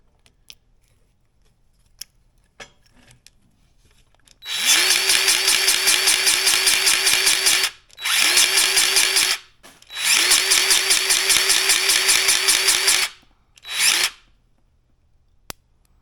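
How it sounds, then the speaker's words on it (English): A Harbor Freight grease gun pumps grease into a tie rod end in several long rasping bursts, each a rapid run of clicking strokes, with brief pauses and one short final burst. "Now we'll use the Harbor Freight grease gun here."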